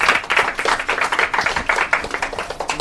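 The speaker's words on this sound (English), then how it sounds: "Can we have a round of applause for the Lienerts?" A small crowd at a CSS meetup gives a family a round of applause, brisk overlapping claps forming a lively, fairly close patter.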